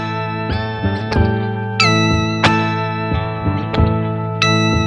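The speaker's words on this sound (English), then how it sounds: "if we play with both the dry loop and the repitched loop playing" Two layers of a sustained, buzzy synthetic tone play together, one shifted in pitch against the other, with sharp note changes every half second or so.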